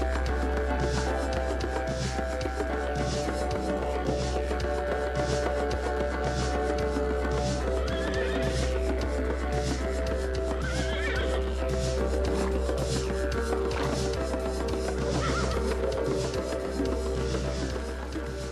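Wild brumby horses in Australia whinny and neigh repeatedly amid a dense, steady wash of background noise, with hoof clip-clop faintly woven through the continuous din.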